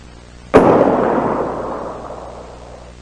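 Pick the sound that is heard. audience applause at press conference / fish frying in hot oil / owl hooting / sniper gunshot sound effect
sniper gunshot sound effect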